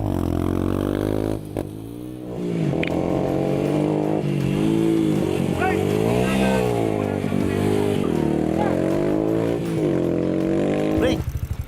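An off-road motorcycle engine revs on and off the throttle during a riding lesson. It is loud and close, rising and falling in pitch in repeated surges almost without a break, then cuts out abruptly at the end.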